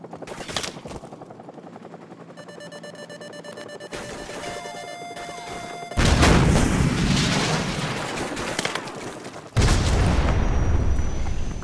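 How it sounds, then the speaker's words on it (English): A Stinger missile launches and explodes in Call of Duty 4 Remastered, with beeping lock-on tones, then a loud rushing launch blast and a second heavy boom near the end. "So, grab another Stinger and fire again!"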